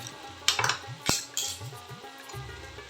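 Spinach, radish and mixed vegetables with coriander leaves and a spoon of sugar being stirred together in a pot, with a utensil scraping and clinking against the metal in short irregular strokes, close up and with no talking.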